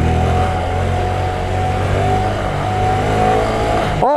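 A Honda Grom motorcycle engine drones loud and close at high revs during a wheelie, holding a steady buzzing pitch, then cuts off abruptly near the end.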